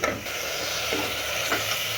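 Masala fries in a pan for Kashmiri mutton kalia, a steady close sizzle and hiss with a few soft scraping stirs of the spoon, no talking.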